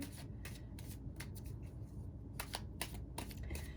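Tarot cards are shuffled by hand in quick riffling bursts, several crisp flutters separated by short pauses, close and clear with no voice.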